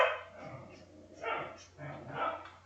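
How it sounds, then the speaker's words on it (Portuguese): Dogs barking faintly in the background of a room, three soft bursts of muffled barks and yips spread over a few seconds, with no clear talk over them. "se vocês escutarem alguns latidos por aí, são os meus dogs"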